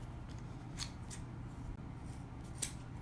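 Scissors make a few soft, quiet snips while trimming craft material for a messy bow on an Easter bunny decoration, with faint background hiss and no talking.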